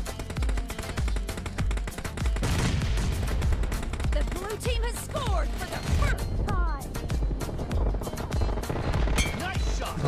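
PUBG gunfire on a OnePlus 10R phone crackles in rapid bursts and single shots, with continuous game background noise underneath and voices audible partway through.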